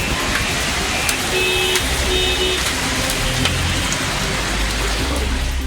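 Heavy rain falls around Kanchipuram as a steady dense hiss of drops hitting surfaces, with occasional sharper splats and a low rumble underneath, close and continuous.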